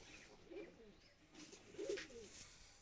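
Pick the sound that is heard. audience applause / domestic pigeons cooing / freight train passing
domestic pigeons cooing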